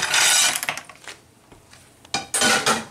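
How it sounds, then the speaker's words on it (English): Washed clams are tipped into a pot of sauce for linguini, clattering loudly against the metal in a burst of shell-on-pot knocks, then a pause and a second rattling tumble. "I'm gonna get those clams and put them right in there."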